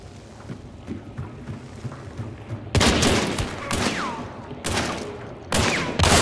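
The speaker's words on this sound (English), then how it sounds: "Oh, shotgun! Oh, he has a shotgun, be careful." Shotgun blasts in the video game Hunt: Showdown: several loud, abrupt booms in quick succession, each with a brief ringing tail over low ambient game noise.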